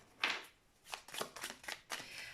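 Tarot cards riffled and cut by hand: a few quick papery shuffling bursts in a row, close and fairly soft, with no talking.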